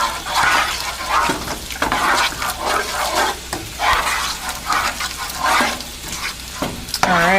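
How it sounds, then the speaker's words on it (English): Taco sauce being stirred in a hot pan: continuous loud sizzling and wet scraping swirls of the spoon, close up, with a brief voice near the end. "just keep mixing it until it's all thoroughly mixed"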